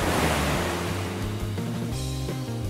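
Ocean waves surge and wash steadily at a seaside beach, a continuous loud roar of surf with a brief swell partway through, no voices.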